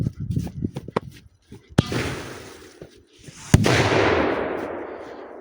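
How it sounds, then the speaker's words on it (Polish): A firecracker bursts inside a cooking pot outdoors near woods, a sharp loud bang followed by a long hissing, rushing burst, with rustling and movement beforehand. "No ale widzieliście, garnek podskoczył, petarda wyskoczyła."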